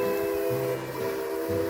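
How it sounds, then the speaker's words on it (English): A mysterious train whistle sustains a steady, layered tone over a low rumble, moderately loud and unbroken for the short stretch, with no voices. "She heard a mysterious train whistle out of the blue."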